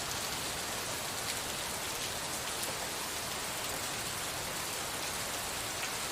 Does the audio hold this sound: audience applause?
no